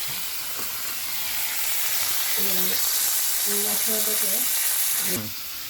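Pieces of katla fish frying in hot oil for doi katla give a steady, close sizzle throughout, with a voice speaking briefly over it near the middle.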